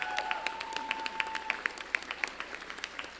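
Graduation ceremony audience applauding, a thin scattering of distinct claps at moderate distance with a brief tone in the first half, steady through the short stretch.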